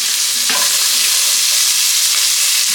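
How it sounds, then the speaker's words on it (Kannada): Chopped onion and tomato fry loudly in hot oil with garlic for cauliflower palya, a dense, unbroken close sizzle with a few faint stirring scrapes. "ಬ್ರೌನ್ ಕಲರ್ ಬರೋ ತನಕನೂ ಫ್ರೈ ಮಾಡ್ಕೋಬೇಕು."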